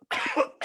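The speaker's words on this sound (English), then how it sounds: "now I'm coughing a little bit" A man coughs during a lecture, two short, close, dry bursts with a brief pause between them, heard alone.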